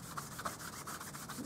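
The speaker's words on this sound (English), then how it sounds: "I'm going to rub some embossing buddy all over" An embossing buddy pad rubbed back and forth over cardstock, a faint, soft scuffing with a quick repeating rhythm of short strokes, close and quiet.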